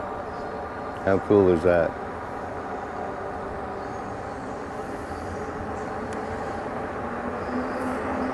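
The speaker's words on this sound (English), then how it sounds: "And I hear a train." A steady low rumble of a train rolls on throughout near a covered bridge, with a person on an e-bike speaking briefly near the start over the continuous rail noise.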